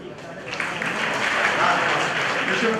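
An audience at an MSME business conclave claps together in a sustained, dense round of applause that builds and holds steady throughout, with no clear speech over it.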